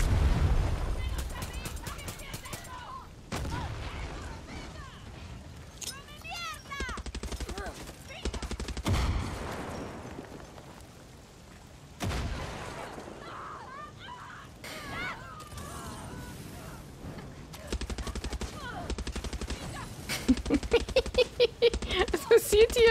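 Gunfire in the shooter Far Cry 6, bursts of automatic shots and impacts scattered through a busy game scene, with a fast rattling volley near the end and speech at times.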